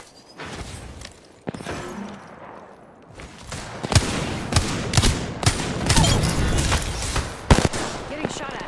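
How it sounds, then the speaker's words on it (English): Rapid gunfire in Apex Legends cracks in dense volleys that build and grow louder toward the end, mixed with impact hits and a brief voice. "Getting shot at."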